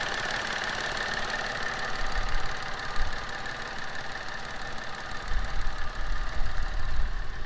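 A 2013 Mitsubishi Mirage engine runs at a steady idle, close and continuous, with a low rumble under a busy mechanical hum and slight swells in loudness, and no voices.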